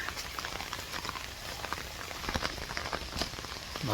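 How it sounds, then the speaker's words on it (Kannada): Monsoon rain falls steadily at a home and garden in coastal Karnataka, a dense, continuous patter with scattered sharper drops hitting nearby surfaces, no voices over it. "ಮಳೆ ಬರ್ತಾ ಉಂಟು"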